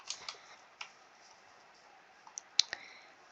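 Sparse keyboard clicks from someone playing Fortnite ranked matches, a handful of light, irregular taps and clacks spread across a quiet background, close and fairly faint.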